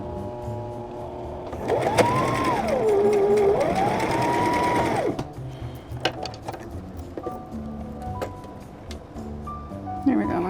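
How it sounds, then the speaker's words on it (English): A sewing machine stitches quilt fabric in a quick buzzing run of about three seconds, speeding up and slowing down, close and clear, followed by quieter handling clicks while a person talks throughout. "we're just gonna sew this to the sides like this and then flip it out and iron it"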